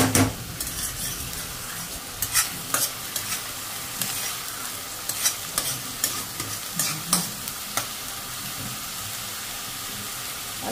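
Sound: onions frying in oil for katla fish curry

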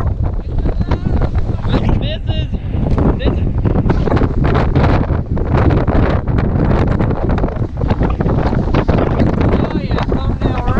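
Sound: wind blowing into the microphone by the water

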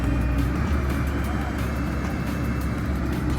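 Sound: excavator pulling a dead cow out

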